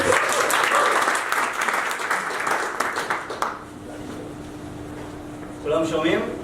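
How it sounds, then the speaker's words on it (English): An audience at an open-source anniversary celebration applauds steadily for a few seconds, then the applause fades into room hum and a voice begins speaking. "Give him a round of applause."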